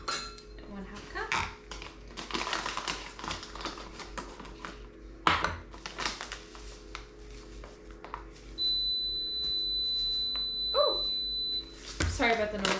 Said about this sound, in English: Sorry about the noise, that is just the oven telling me it's finished preheating